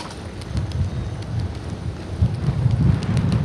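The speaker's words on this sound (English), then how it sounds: "Wind blowing." Wind blowing on a cold late night on an e-bike ride through Philadelphia, a steady low rumble buffeting the microphone and swelling in gusts.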